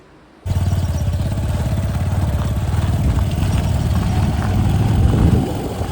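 A motorcycle engine starts up and runs steadily with a close, loud, throbbing putter as the bike heads out on a ride to fetch milk, continuing with no talk.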